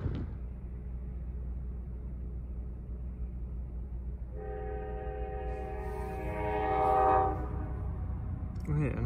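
A Norfolk Southern freight train arrives at night near a rail yard, its multi-tone horn sounding for a few seconds over a steady low rumble, moderately distant.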